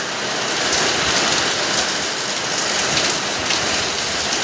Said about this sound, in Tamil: இந்த வயநாட்டில் மழை மட்டும் ஏந்தே இப்படி அடித்து ஊற்றுதோ